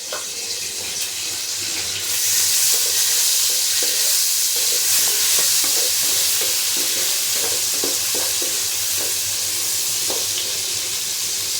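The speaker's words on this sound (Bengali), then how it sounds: "চিংড়ি মাছ কটা ভাজি হোক" A few shrimp frying in a pan with garlic and onion: a loud, continuous sizzle that swells after the first couple of seconds, with a crackling, watery texture and no talking.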